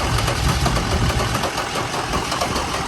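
A scrap Mercedes OM606 diesel engine cranks over, giving a loud, close, rough, continuous chugging with a knocking vibration throughout.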